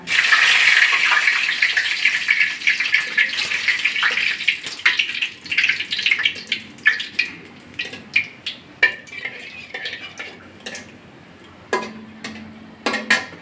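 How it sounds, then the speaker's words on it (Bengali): Nigella seeds and three dried red chillies hit hot oil, giving a loud hissing sizzle at first that thins out into sputtering crackles and pops, with a few clinks of a utensil against the pan. "একটু কালো জিরে ফোড়ন দিচ্ছি আর দিয়ে দিচ্ছি তিনটে শুকনো লঙ্কা"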